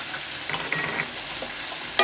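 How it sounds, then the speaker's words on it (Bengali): Spices frying for chicken ghugni sizzle and crackle close up as a little water is added, with a sharp burst of hissing near the end. "সামান্য জল মশলাটা কষানোর জন্য জল দেওয়া হলো"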